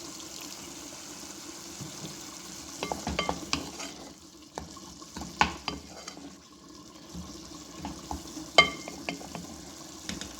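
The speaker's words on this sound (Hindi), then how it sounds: "अब इसको इतना भूनेंगे तेज़ आग पे कि इसका पानी ड्राई हो जाए" Minced meat keema fries over high heat with soy sauce and black pepper for keema kachori, a low steady sizzle broken by irregular scraping clicks and knocks as a spoon stirs the pan. No voice is heard.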